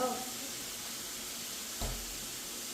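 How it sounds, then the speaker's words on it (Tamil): Beetroot sautéing in a pan at home, a soft steady sizzle with a brief stir or clatter midway, while people talk. "அங்கால வந்து பீட்ரூட் வதங்கி கொண்டு இருக்கு"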